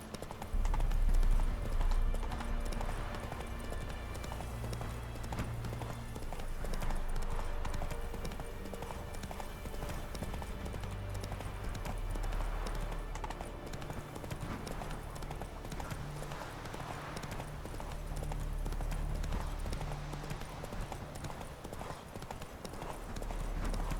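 Horse hooves clip-clop steadily in The Witcher 3, a continuous trotting rhythm under low game music and ambience, with a faint whinny early on.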